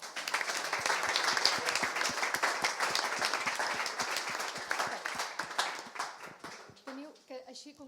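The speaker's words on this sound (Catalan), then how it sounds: "Un aplaudiment." An audience claps for a sound designer at an arts-and-science projects event, dense steady applause that fades at the end as a voice begins speaking.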